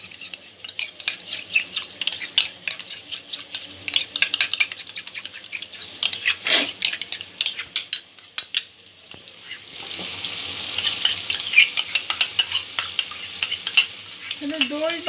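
A spoon stirs whisked yogurt into a spinach and potato curry in a pan, giving repeated scraping and soft wet stirring sounds over a faint sizzle, with scattered metal clinks throughout.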